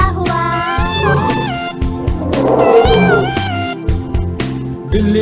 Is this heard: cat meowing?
yes